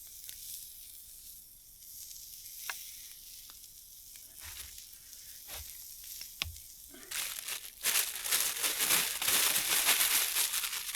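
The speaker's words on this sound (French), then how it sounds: "Et là, on met les oignons. Il faut qu'ils soient bien caramélisés." Onions drop into a hot pan to caramelize, and a loud, steady sizzle swells up after a few scattered clicks and pops. The close, crackling hiss carries on through the rest of the clip.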